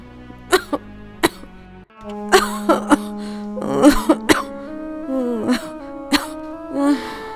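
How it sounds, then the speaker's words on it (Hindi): Several sharp, harsh coughs and throat-clearing bursts in scattered fits, close by, over a steady low hum. "मेरी छाती पे खांसेगी।"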